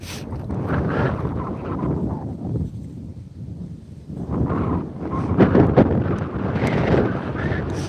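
Strong gusting wind on open ice buffets the microphone in loud, rough surges, easing briefly midway before picking up again.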